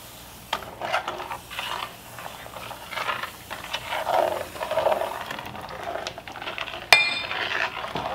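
A whisk clinks and scrapes against a pot while Maseca corn flour and sugar are beaten together for champurrado, steady rattling strokes close up with a sharp clink near the end.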